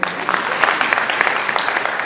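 Dense, steady applause from a graduation ceremony audience in Kenya, holding at an even level throughout with scattered louder claps.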